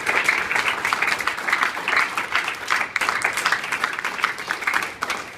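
A church congregation breaks into strong, rhythmic applause during a Spanish-language sermon, lively clapping that swells in pulses and carries on for several seconds.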